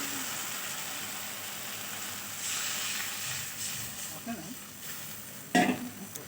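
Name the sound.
water poured into pan of frying fish curry masala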